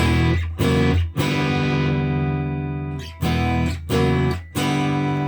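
Clean electric guitar chords from a Suhr Strat ring out through a Victory V44 amplifier with no reverb or effects, struck several times and left to sustain and decay between strums.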